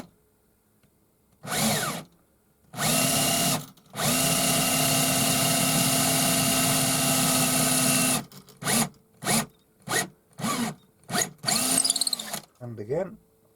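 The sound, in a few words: power drill with 8mm bit drilling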